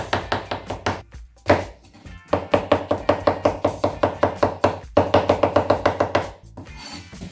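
Brisk, rhythmic knife strokes slicing chestnut mushrooms on a cutting board, a run of quick even chops, a brief pause, then more steady slicing, close and clear.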